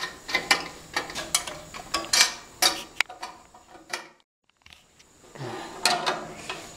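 Adjustment knobs and locks on a new band saw are tightened back down after setup, giving close ratcheting and clicking mechanical bursts, a brief quiet pause, then more clicks.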